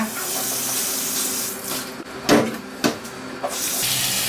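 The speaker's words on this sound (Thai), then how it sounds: "เรามาล้างหมูกันดีกว่า" Tap water runs steadily into a sink while pork is washed in a home kitchen, a soft continuous splashing broken by a few brief louder splashes and clunks.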